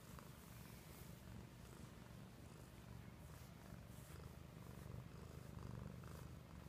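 A cat purrs up close in a soft, continuous rhythmic rumble, quiet and steady throughout with no other sounds.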